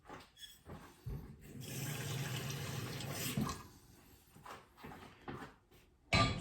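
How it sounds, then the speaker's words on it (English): Tap water runs into a pot of rice as it fills for a vegetable korma, a steady rushing pour lasting a couple of seconds in a quiet kitchen, with a few small knocks and splashes before and after. "when you fill it up with water, just use your thumbnail as a guide"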